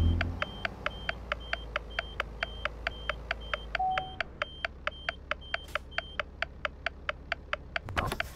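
A truck's reversing beeper in Euro Truck Simulator 2 sounds a long train of evenly spaced, sharp electronic beeps over a low engine hum, clear and steady throughout.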